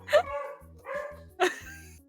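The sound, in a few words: angry dog barking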